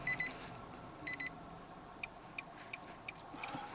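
Car warning chime beeping inside a car during emergency braking: a few short, faint electronic double beeps early, then a series of quieter ticks, all low in level over soft cabin noise.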